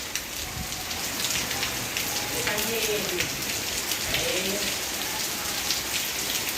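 Heavy monsoon rain pours down steadily, a dense hiss of drops on surfaces near and far, with voices and children's playful noise faintly mixed underneath.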